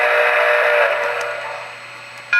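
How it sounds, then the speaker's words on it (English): A model railroad locomotive sounds a steady, sustained steam-style whistle, close and clear, fading slightly before a brief louder burst at the end. "Of course, it has a whistle"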